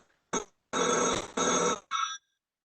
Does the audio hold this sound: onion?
no